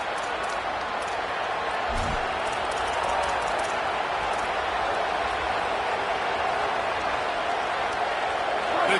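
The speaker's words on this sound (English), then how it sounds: "The Tide crowd rolling noise down onto Saban Field on 3rd down" Alabama Crimson Tide football crowd at Saban Field roaring on third down, a broad, sustained stadium wash of noise under a commentator's voice.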